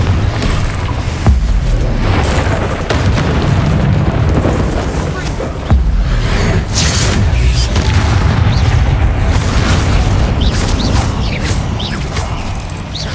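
Confringo and Bombarda spells detonate in Hogwarts Legacy combat, loud booming blasts and crashing impacts rolling one after another under a continuous roar, with a sharp hit near the start and another midway.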